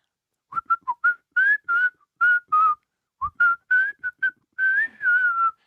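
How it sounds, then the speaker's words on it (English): A person whistles during a broadcast of an NFL football game between the Chiefs and Broncos, a series of short, clear, pitched whistle notes in quick bursts with brief pauses, alone and fairly close. "I don't know what the whistling was"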